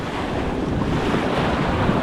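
Waves washing onto a beach, a loud, steady roar of surf mixed with heavy wind buffeting the microphone, continuous throughout with no talking.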